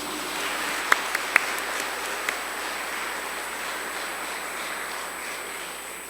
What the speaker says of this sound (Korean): 선생님 큰 박수로 모시겠습니다